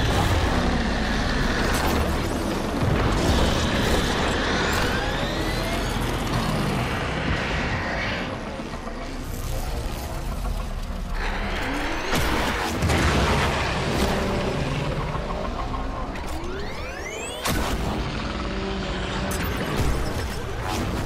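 Heavy explosions boom through a Warframe mission on Deimos, deep rumbling blasts and crashing debris filling the scene loudly, with sharp bursts recurring over roughly twenty seconds and no talk over them.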